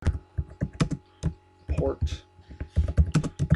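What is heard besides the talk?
typing on a computer keyboard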